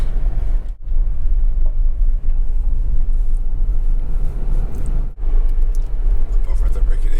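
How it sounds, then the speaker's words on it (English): Steady, loud low rumble of a car climbing the Beartooth Highway toward Beartooth Pass, a constant engine and road drone with two brief dips. "Today I'm driving up to Beartooth Pass."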